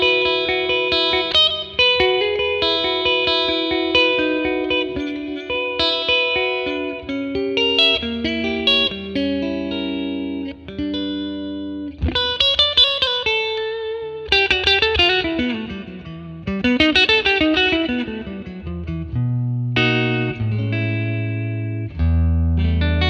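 An electric guitar plays melodic lines and chords through a modelled 1957 Tweed Bassman amp with reverb, notes ringing out with a spacious tail and slight grit, pausing briefly between phrases.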